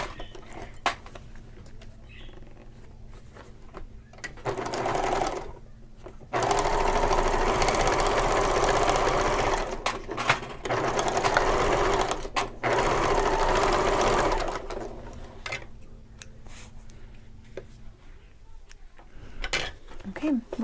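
A sewing machine stitches a fabric shoulder bag in a long, steady whirring run of about eight seconds, framed by quieter handling noises and brief shorter bursts of stitching before and after.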